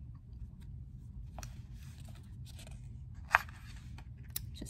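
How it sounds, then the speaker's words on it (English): Quiet paper rustling as comic book pages turn, a few soft crisp swishes and one sharp snap over a low steady background hum. "Just looking through some notes and page turning."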